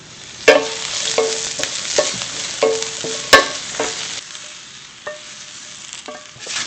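Garlic and sesame oil fry in a pan with a soft sizzle, broken by a series of sharp utensil clicks and scrapes against the pan at irregular intervals, close up and with no talking.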